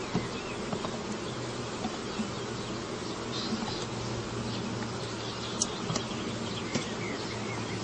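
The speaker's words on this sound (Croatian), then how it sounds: "To sve tako, samo malo da pčele maknemo. Pčeli su svi izašle na sanduk." Honeybees swarm over an open hive box, making a dense, continuous buzz close by with no voices.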